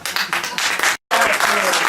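Loud, close applause from the audience at a bookshop birthday celebration with a Sardinian association, thick and continuous except for a split-second cut near the middle.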